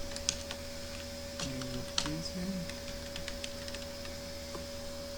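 Keys clatter on a computer keyboard in short bursts of clicks and taps, close and quiet over a faint steady electrical hum, with a brief low murmur of a voice partway through.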